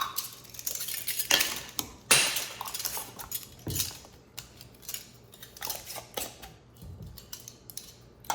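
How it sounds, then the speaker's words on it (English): New metal lids and screw rings are set onto glass canning jars, giving a close series of irregular metallic clinks, taps and scrapes, some sharp and some softer, with brief pauses between. "each one of my jars is gonna get a new lid and a ring."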